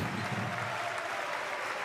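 Basketball crowd applauding as a Dinamo player leaves the court during a Basketball Champions League round-of-16 game against Burgos, a steady, dense wash of clapping and crowd noise in a large arena.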